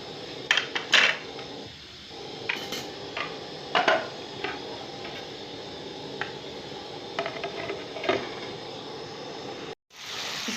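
Spices being stirred and a cooking pot covered for a dhaba-style dahi chooly dish in a village kitchen: scattered metallic clinks and scrapes of spoon against pot, with a brief sharp rattle near the end.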